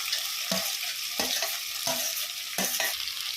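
Vegetables with tomato frying and being stirred in a pan for sambar, a steady loud sizzle broken by rhythmic scraping strokes of the spoon, close up.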